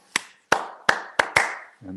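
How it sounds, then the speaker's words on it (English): Hand claps during high jump coaching, five sharp claps in a quick, roughly even rhythm, close and crisp, with a brief voice starting right after. "Rhythm is important, and I'm clapping."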